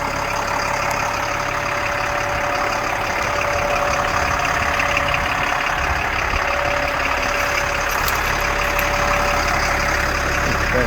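A 1078A1 LMTV military truck idling after a cold start: a steady, loud diesel drone with a constant mechanical hum and faint ticking, running alone without pause for about eleven seconds.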